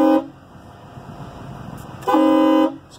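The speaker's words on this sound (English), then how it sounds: "See this one that says air horns?" Very loud air horn on a 2007 EarthRoamer gives two strong, brassy blasts: a short one at the start, then a longer one after a pause filled with low background rumble.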